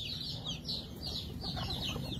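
Baby chicks peep in a steady, busy chorus of high chirps, close by and continuous, with no talk over them.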